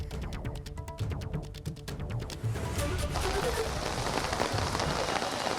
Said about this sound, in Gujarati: ગાંધીનગરના કલોલ અને આસપાસના વિસ્તારમાં વરસાદ વરસી રહ્યો છે